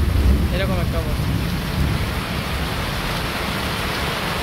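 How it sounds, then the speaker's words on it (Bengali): Heavy rain pours steadily in a village during a thunderstorm, a dense, loud, continuous hiss with low rumbling underneath, and a brief voice is heard early on. "বৃষ্টিটা খুবই সুন্দর বানছে খালি যে না ঝিলকায় মানে বিদ্যুৎ না চমকায়"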